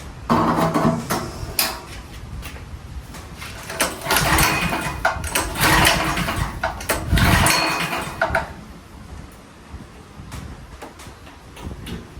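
A petrol engine being cranked to start, with repeated uneven bursts of mechanical churning and clatter that never settle into a steady run, loud and close, then quieter ticking once the attempts stop.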